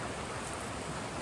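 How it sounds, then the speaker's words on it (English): Steady, hissing rush of water from a flooded creek flowing nearby, continuous and fairly faint, with no other sounds over it. "a flooded creek"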